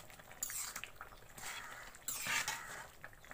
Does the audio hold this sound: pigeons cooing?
no